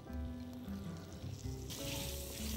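Beaten eggs, seasoned with a pinch of ginger and salt, hit a hot pan for a rolled omelette. A sudden broad sizzle bursts in partway through over a faint tonal background and keeps hissing to the end.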